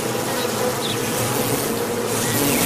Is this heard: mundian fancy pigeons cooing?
no